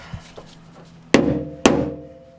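Two sharp metallic hammer blows on a Honda Civic body panel being knocked off a spot weld, close and loud, each ringing briefly, preceded by faint taps.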